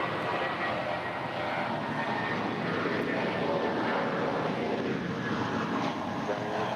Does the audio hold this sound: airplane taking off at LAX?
yes